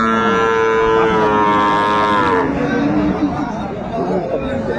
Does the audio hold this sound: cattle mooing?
yes